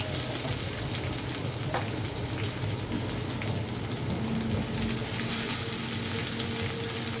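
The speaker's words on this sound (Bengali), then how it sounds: "তখন দিয়ে দিলাম কেটে রাখা পেঁয়াজ কুচি।" Chopped onions hit hot oil with garlic cloves already browning, over a high flame, giving a steady, dense sizzle that fills the clip without pause, with a few faint clicks of stirring.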